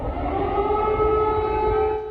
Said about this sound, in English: they woke to the sounds of air raid sirens